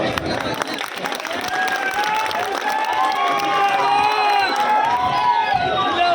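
A large crowd at an outdoor public political meeting in a Delhi ward claps and cheers continuously, loud and dense throughout, with whistles and shouting voices mixed into the applause.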